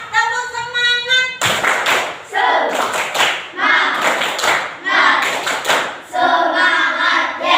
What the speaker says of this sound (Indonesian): Boleh tepuk tangan semuanya, tepuk semangat.